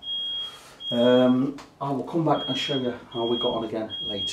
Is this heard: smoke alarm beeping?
yes